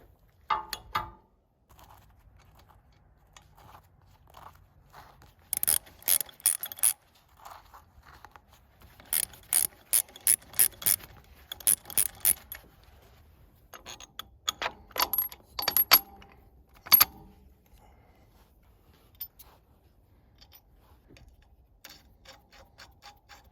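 Bolts being fastened during slide replacement on a Wolfe Ridge log splitter: clusters of short metallic clicks and ratcheting bursts, close by, in irregular groups separated by quiet pauses.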